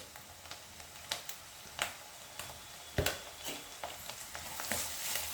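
Ginger-garlic paste frying in oil with cumin and mustard seeds, a quiet steady sizzle broken by sharp crackles and occasional clicks of a stirring spoon, close and faint, with no talking.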